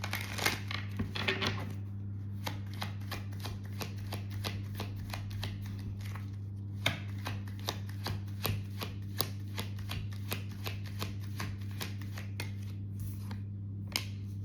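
Tarot cards shuffled by hand, a rapid series of crisp riffling slaps and flicks repeating steadily and close over a low constant hum.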